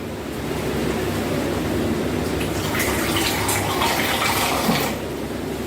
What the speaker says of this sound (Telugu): అలాగే కొద్దిగా వాటర్ వేసుకుందాం ఫ్రెండ్స్